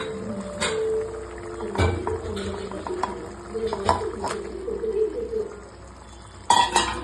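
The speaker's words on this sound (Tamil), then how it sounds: "ஸோ ஆட் பண்ண சோயாவையும் நல்லா மிக்ஸ் பண்ணிக்கலாம்." Soya chunks are stirred into a bubbling gravy in a pan, with soft wet sloshing and bubbling broken by several sharp spoon knocks against the pan, close up and moderately loud.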